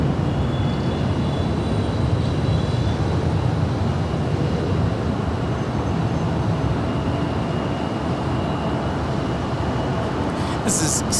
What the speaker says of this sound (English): This is SkyWest 3654 departing to San Francisco. It's an Embraer E175.